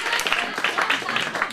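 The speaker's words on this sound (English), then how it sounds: "Big round of applause." Audience applause and clapping at a comedy show fill a short stretch, a dense crowd wash with some voices mixed in.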